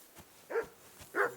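A dog in Kingdom Come: Deliverance II lets out two sharp, fairly close barks about half a second apart, each with a slightly whiny, whimpering edge, heard alone without any voices.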